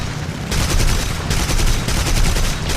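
Rapid sustained aircraft machine-gun fire strafing anti-aircraft ground positions in War Thunder, a dense unbroken stream of bursts, loud and close, with no talk.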